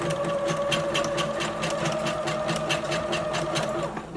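Sewing machine running steadily as it stitches a fabric skirt, a dense rapid needle chatter close up that holds continuously for several seconds before easing slightly at the end.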